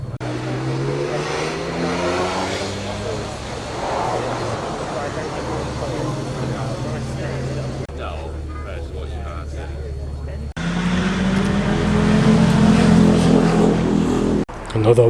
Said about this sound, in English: Super compact little engine in this Suzuki Cappuccino.